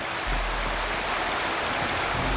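Steady broadband rush of a waterfall in the video game Wuthering Waves, constant and fairly full, with no voices or other sounds over it.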